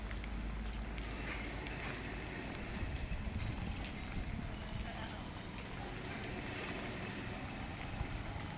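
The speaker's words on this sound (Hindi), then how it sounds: "तो वैसे अभी बारिश भी चालू है।" Steady rain falls outdoors during testing of a power tiller trailer before delivery, a dense even hiss of drops on surfaces with a low rumble beneath, constant throughout.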